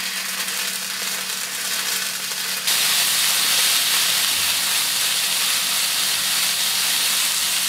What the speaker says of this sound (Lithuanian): Kai aliejus keptuvėje įkais, sudėsime į ją marinuotus kiaulienos gabaliukus.